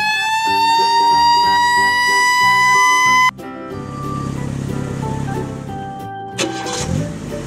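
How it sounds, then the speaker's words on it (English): Loud wailing siren from a red toy fire truck, a rising electronic tone that suddenly cuts into a jumble of tinny toy sounds and clatter, with no talking. "Red fire truck."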